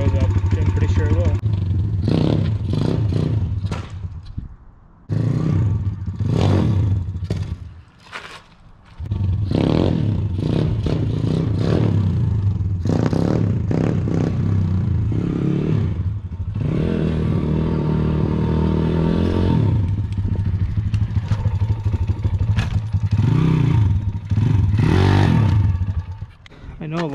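A Piranha 125 pit bike engine runs steadily up close with a faint mechanical tick beneath the idle, cutting out briefly around a few moments then resuming with rev rises, while someone talks over it.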